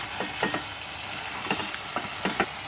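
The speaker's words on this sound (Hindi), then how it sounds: "1 मिनट इसको हम भून लेंगे।" Crackling sizzle of spices frying in a hot pan for a chana dal gosht curry, with a few louder stirring scrapes breaking through the steady hiss.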